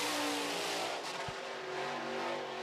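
A sprint car engine drones steadily through a time trial lap, loud and continuous with a sustained harmonic whine and a brief low thump midway.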